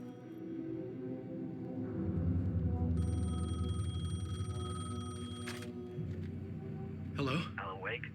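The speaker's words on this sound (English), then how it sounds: "The payphone was ringing" A payphone rings in the dark setting of the Alan Wake 2 video game, a steady electronic tone lasting a few seconds over low rumbling ambience and murmuring voices.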